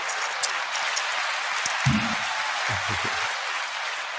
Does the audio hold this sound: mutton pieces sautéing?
no